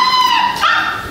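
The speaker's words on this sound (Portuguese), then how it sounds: "A cachorrinha tá aqui, gente." A small female puppy whimpers and yips in a high, thin whine that rises and falls, close and fairly loud, heard alone without talking.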